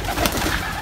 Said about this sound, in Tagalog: Si mga ibon natin is nakabitaw na.